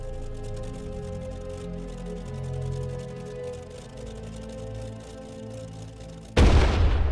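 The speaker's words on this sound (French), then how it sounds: "Le premier coup de canon de la Deuxième Guerre mondiale est tiré sur Danzig." A sustained droning tone plays, then a single loud, sudden boom of a World War II cannon shot at Danzig bursts in near the end.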